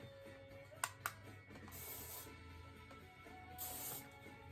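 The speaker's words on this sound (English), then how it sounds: "I'm going to spray it down with some Fatboy hairspray." Fatboy flexible-hold hairspray sprayed onto hair, heard as two sustained hissing bursts, each about half a second long, near and moderately loud. A pair of short clicks comes first, and there is no talking.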